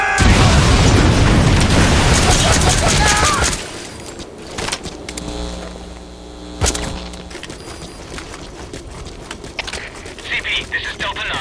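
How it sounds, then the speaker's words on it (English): A grenade detonates in Metal Gear Solid: a loud, dense blast with crackling debris for about three seconds, then a quieter rumbling aftermath broken by a sharp metallic hit and scattered clanks, with voices heard. "Damn it! Grenade!"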